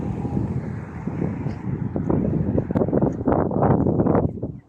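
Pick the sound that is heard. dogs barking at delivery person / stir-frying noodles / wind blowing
wind blowing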